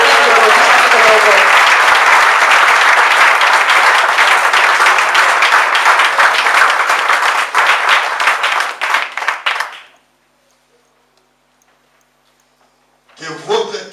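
A church congregation at a seminar in Athens, Greece breaks into loud, sustained applause and cheering that fills the room, then fades out abruptly, with a brief burst of sound returning near the end.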